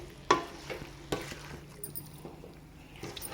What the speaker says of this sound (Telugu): దీన్ని అయితే ఒకసారి బాగా కలుపుకోండి గ్రేవీ మొత్తం దీనికి చికెన్ పీసెస్కి పట్టేటట్టు బాగా కలుపుకోండి